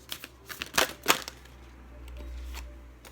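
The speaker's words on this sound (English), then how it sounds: "Beautiful cards, but they're so awkward to shuffle." A few quick riffling snaps of tarot cards being shuffled, close and fairly quiet, followed by a soft low hum.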